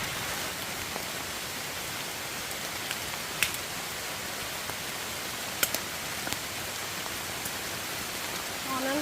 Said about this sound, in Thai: ฝนตกไม่หยุดเลย